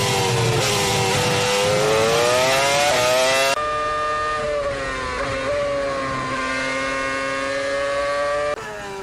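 Lotus Formula 1 car engine at Imola with the driver on the throttle through a corner, a loud high-pitched wail that rises and dips in pitch, running alone without talk throughout.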